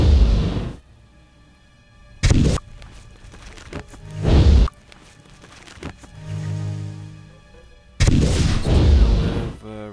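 Explosions in the Might & Magic VI game, heavy booming blasts arriving in separate bursts with quieter gaps and lingering effect tones between them.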